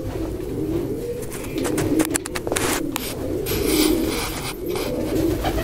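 Homing pigeons cooing as a pair builds a nest with broom straw, soft repeated low coos close by over a steady rustling background.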